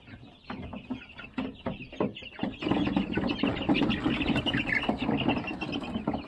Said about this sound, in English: last of the birds coming out of the brooder